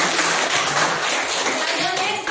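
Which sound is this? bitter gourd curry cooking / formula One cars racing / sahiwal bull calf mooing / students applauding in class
students applauding in class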